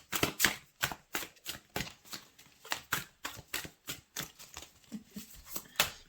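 Tarot cards being shuffled by hand, a quick run of crisp riffling flicks and slaps in a fairly regular rhythm, close and quiet with no talking.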